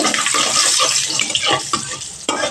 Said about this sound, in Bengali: এখানে আমার 5 ফোড়ন ভাজা হয়ে গেছে